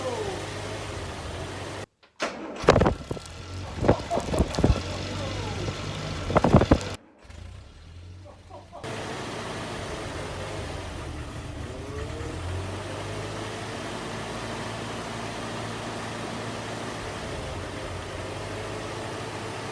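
A small engine cranks over in several bursts, catches with choke applied, then settles into a steady, quiet idle that continues alone for the rest of the time.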